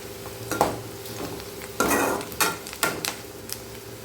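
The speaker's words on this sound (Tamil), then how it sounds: "இப்போ பாதி வதங்கியிருக்கு. இன்னும் பாதி வதங்கணும்." Masala for chicken 65 thokku being sautéed in a pan: a soft sizzle under repeated metal spatula scrapes and clanks against the pan in an irregular stirring rhythm, close and moderately loud, no speech.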